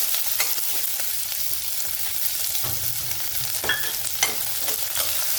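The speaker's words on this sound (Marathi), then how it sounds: "आता हा एकदम बारीक कापलेला कांदा आहे, तो परतून घेऊ" Finely chopped onion sautéing in hot oil with cumin seeds for a broccoli bhaji, a continuous close sizzle with occasional spoon scrapes and stirring clicks.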